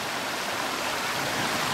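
A woodland creek rushes steadily past, a dense, even hiss of flowing water that stays close and constant throughout, with no voices.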